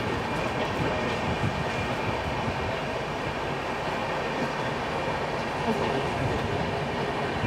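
Paschim Express passenger train pulling out of Navsari station, a steady broadband rumble of wheels and carriage noise filling the clip at constant loudness, heard from on board with faint talk.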